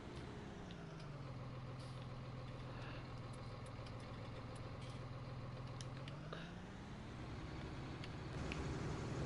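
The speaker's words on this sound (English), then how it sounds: "listen to that tractor." A tractor engine in the PS4 video game Farming Simulator 19 drones steadily at idle with a low hum, dipping slightly in pitch before rising again near the end, with no talking.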